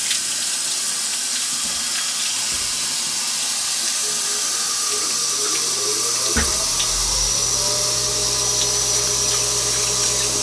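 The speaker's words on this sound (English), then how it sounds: "Under warm running water." Warm water runs steadily from a tap, a constant close hiss and splash with no pauses, used for washing down a car body while prepping it for paint.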